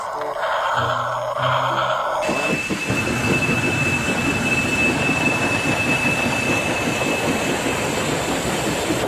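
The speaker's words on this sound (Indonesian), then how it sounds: "Coba dinyalakan. Wah, kereta api Thomas." A toy Thomas train runs steadily with a whirring motor and faint rhythmic clatter, preceded by a brief burst of different sound at the start.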